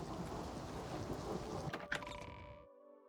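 Steady heavy rain with a rumble of thunder in The Elder Scrolls IV Oblivion Remastered, a continuous dense hiss with a sharp crack near the end before the sound cuts off abruptly.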